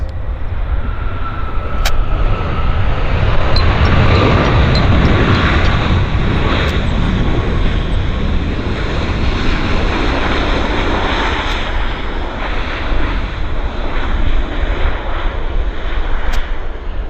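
A WestJet airliner passes at Vancouver International Airport with a loud, continuous jet engine roar that swells and holds throughout, broad and rumbling, heard from nearby outdoors.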